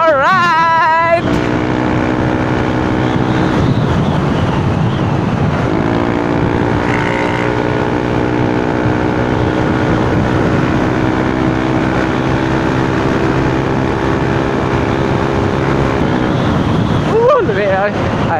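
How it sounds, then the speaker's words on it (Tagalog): A motorcycle engine drones steadily while being ridden, its pitch rising and falling with the throttle under heavy wind rush across the microphone, and a rider's voice is heard faintly near the end. "lamig kayo sa feeling na naitingog imong motor"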